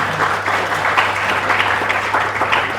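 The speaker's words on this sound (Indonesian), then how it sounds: "Tepuk tangan buat perempuan kita." Audience applause at a Dharma Santi gathering in Bali, a sustained crowd clapping that stays dense and fairly close for a few seconds.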